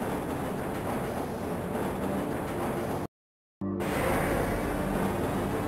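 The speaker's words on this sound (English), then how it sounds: "This train is inbound from Level 3 dormitories to Sector C test labs and control facilities" A Black Mesa tram in Half-Life, running on the Xash3D engine, rumbles along its track with a steady, dense roar. The noise cuts out completely for half a second, then returns at the same level.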